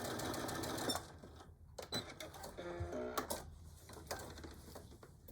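Sewing machine running a short back stitch on a fabric tool pouch, a fast close mechanical whir for about a second, then stopping, followed by soft clicks and handling noises.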